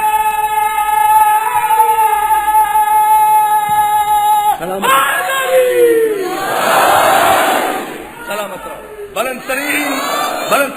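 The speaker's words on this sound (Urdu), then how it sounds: "بلند ترین صلوات میرے محمد والے محمد کا" A large crowd at a majlis gathering loudly reciting salawat in unison, a roaring chorus of voices that swells after a speaker's amplified call, close and reverberant.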